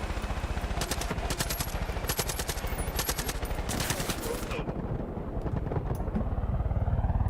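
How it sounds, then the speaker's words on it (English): Rapid machine gun fire in a video game, bringing down a helicopter: dense, loud rattling bursts in quick repeated volleys, with rotor and engine rumble underneath and the shooting thinning out toward the end. "It's pretty easy to shoot down that chopper."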